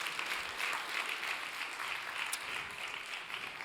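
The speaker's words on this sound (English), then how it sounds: "Applause to TerraWaste." A startup pitch event audience claps steadily, with even, continuous applause that is fairly distant and moderate in level and has no talking over it.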